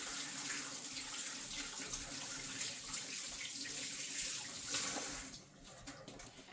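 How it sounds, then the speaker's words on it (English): Tap water runs steadily into a sink as hands are washed in a home kitchen, a continuous hiss with light splashing that thins out and drops off near the end. "Let me wash my hands up."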